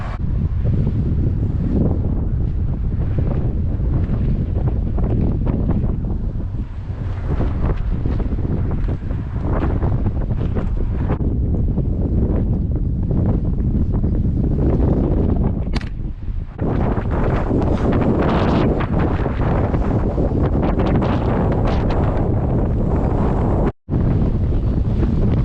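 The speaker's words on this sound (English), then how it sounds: "I know it's pretty windy. You probably can't hear me the best" Strong gusting wind batters the microphone on an exposed hiking trail among wind farms near Tehachapi, a loud continuous roaring buffet with brief dips and one sharp dropout near the end.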